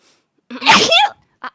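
A single loud, close sneeze bursts out sharply, followed by a short faint breath or sniff.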